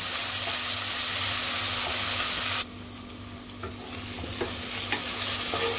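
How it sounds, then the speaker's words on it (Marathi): Tomatoes soften in a pan while being stirred, the steady frying sizzle close and continuous, with a sharp drop in hiss midway as scraping stirs continue over a quieter simmer. "टोमॅटो पण जरा मऊ शिजवून घेऊया।"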